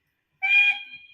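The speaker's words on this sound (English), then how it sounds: "Acknowledging whistle." A short, loud acknowledging whistle from an Accurascale J69 model locomotive: one clear tone lasting under a second that tails off quickly into silence.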